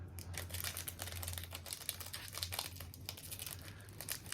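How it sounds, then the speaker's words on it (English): Trading card foil wrappers being torn open and crinkled, a dense run of close, quiet rustling and crackling with no talk. "if I can just learn to open up the card packs"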